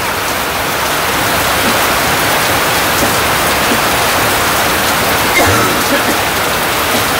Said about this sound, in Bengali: দেখেন কত সুন্দর বৃষ্টি নামছে।